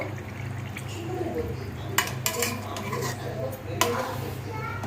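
Fish curry simmers and bubbles in a pot in a home kitchen. A low steady liquid burble runs throughout, with a few sharp clinks of a utensil against the pot.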